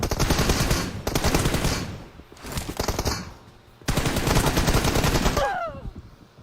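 Rapid bursts of automatic gunfire from PUBG Mobile in a team deathmatch come in several loud, dense volleys separated by short pauses, with a brief whistling sweep near the end.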